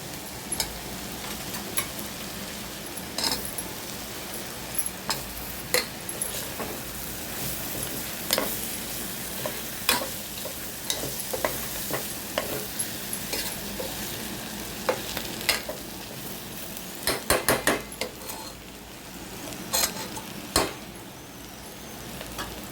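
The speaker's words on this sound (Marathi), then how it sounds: "थोडंसं परतून देऊया." Two potatoes stir-fry in a pan with a continuous close sizzle, broken by frequent sharp clicks and scrapes of a spatula on the pan, growing denser toward the end.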